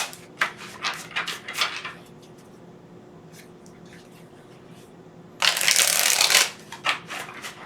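Tarot cards are riffled and shuffled close up in a quiet room, first as a string of quick crisp flutters, then after a pause as one longer, louder burst of card shuffling.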